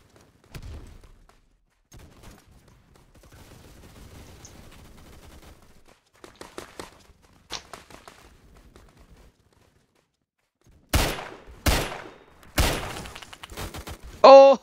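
Shotguns loaded with birdshot firing in the Phantom Forces video game, a few distant faint shots early on, then several loud, close, separate blasts in quick succession near the end.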